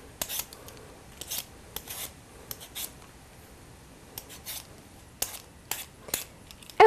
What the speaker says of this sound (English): So what I'm gonna do is peel a potato.